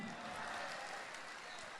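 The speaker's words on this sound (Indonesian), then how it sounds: "Tepuk tangan buat Kamidi" Soft, steady applause from a comedy show audience, a short continuous wash of clapping heard at a distance.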